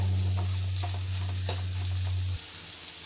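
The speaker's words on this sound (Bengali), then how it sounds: "এবার আমি এটাকে ভালো করে একটু নেড়ে চেড়ে ভাজা ভাজা এরকম করবো" Fish frying in its own rendered fish oil in a pan, a steady close sizzle with faint spatters and occasional stirring scrapes, over a low mains hum that cuts out near the end.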